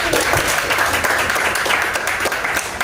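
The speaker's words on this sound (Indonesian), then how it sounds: "Tepuk tangan dulu." A classroom of students claps together at the end of a lesson, a loud, dense burst of applause sustained for a few seconds with no talking over it.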